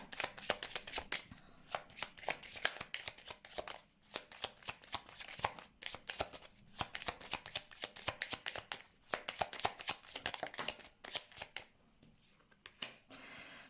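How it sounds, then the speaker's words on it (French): Tarot cards laid out and shuffled on a table, a steady stream of soft papery flicks and slaps with brief pauses, close and fairly quiet, with no talking. "Je vais mettre quelques cartes sur cette montagne"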